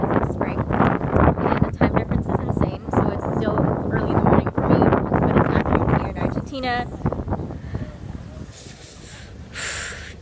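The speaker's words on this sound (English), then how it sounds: "It's very cold and windy." Cold, blustery wind roars outdoors beside a swollen river after a night of rainstorms, a steady broadband rush with strong gusts buffeting the microphone and overlapping talk.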